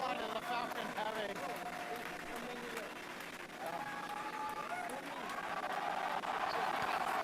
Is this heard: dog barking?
no